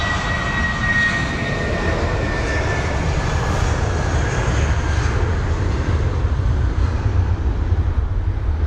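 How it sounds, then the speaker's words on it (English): An Airbus A320-200 airliner at London Heathrow gives off a steady, loud jet roar that holds evenly throughout, with a faint whine riding above the rumble. "That is not an A319, that is an A320-200 heading to Berlin."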